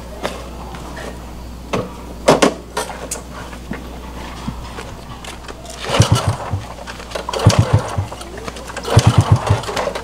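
A stalled old motorcycle engine failing to start, with repeated sputtering cranking bursts that catch briefly and die, growing more insistent toward the end, close by over a low background hum.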